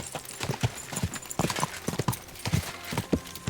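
Horse hooves clip-clop at a brisk trot in Kingdom Come Deliverance 2, a close, rhythmic run of hoofbeats with a brief whinny in the mix.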